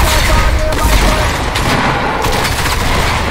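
Shooter video game gunfire comes as dense, loud, continuous shots and booms that fill the whole stretch.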